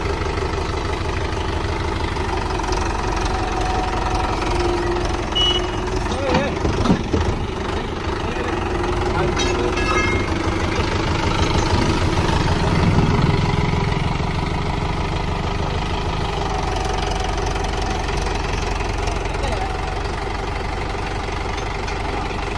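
A tractor engine idles and runs steadily while being used to lift a farm trolley: a continuous low mechanical drone, close and loud, with a brief clattering burst partway through and a slight swell in revving later, and no talk.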